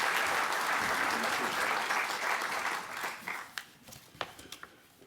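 An audience at an evening history lecture applauds to welcome the speaker, Dr. Ben Wynne, with steady dense clapping that thins out into a few scattered claps before fading.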